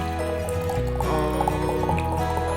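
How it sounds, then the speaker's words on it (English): Cold water is poured for boba tea, a close, continuous splashing fill that sits under faint background music. "Now pour cold water."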